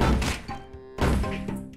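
A triple cannon tower fires in the tower defense game Pirate Legends TD, giving two heavy thunking booms with short ringing tails, spaced about a second apart.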